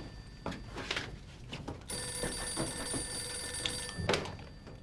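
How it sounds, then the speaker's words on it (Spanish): A telephone rings in a home, a steady electronic ring running for about two seconds amid faint background knocks and a door thump, with no talking. "Cucho, contesta el teléfono."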